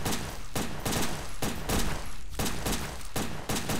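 Repeated bursts of gunfire in the PS2 game Headhunter: short, loud volleys of shots broken by brief gaps, in an irregular rhythm.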